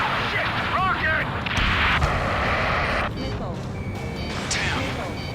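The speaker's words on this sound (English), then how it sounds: "Rocket!" A rocket explosion in the Ace Combat 7 combat flight game, a loud broadband roar over dense battle noise with a rumbling low end, surging around the second and fading slightly, continuous and close.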